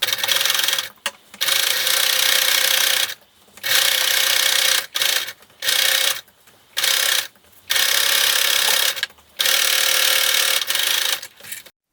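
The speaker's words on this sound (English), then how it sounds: "we're going to sew along here with a 1/2 inch seam allowance and back stitch when you start and when you stop" A sewing machine runs a half-inch seam in repeated bursts of steady mechanical whirring, each lasting a second or two and separated by short pauses, loud and close with no talking.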